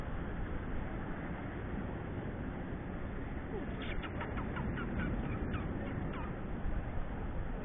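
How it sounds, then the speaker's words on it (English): Indian house crows caw in a short burst of harsh, repeated calls near a beach, laid over steady wind and surf noise. "these are Indian house crows"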